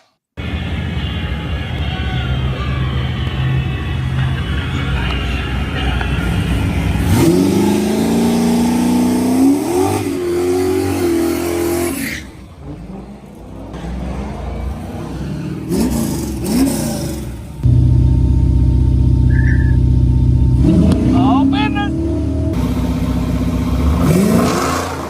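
Nitro drag race cars at an IHRA Outlaw Nitro event roar loudly down the track, engines revving and surging with whine and rumble over about twenty-five seconds, volume dipping midway before climbing again as another pass thunders close by.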